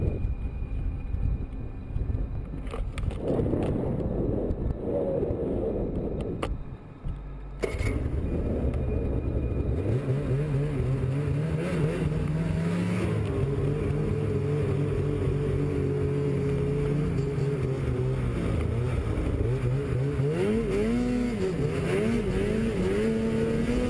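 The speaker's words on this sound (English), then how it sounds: "snowmobile enthusiast Chris Kenny Stovelbuck attempting to become the first person to ride up a steep mountain near Sisimiut, Greenland" Snowmobile engine revving and climbing a steep mountain near Sisimiut, Greenland, with the pitch rising and falling under heavy wind noise and a brief dropout near the start.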